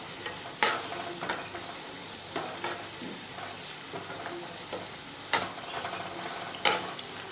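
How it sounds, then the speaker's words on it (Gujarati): Chana dal pakoras (dalwada) deep-fry in oil over slow to medium heat, a steady bubbling sizzle with occasional sharper crackling bursts, close up and alone without speech. "તો અહીંયા એકદમ સરસ આપણા પકોડા તળાઈ રહ્યા છે."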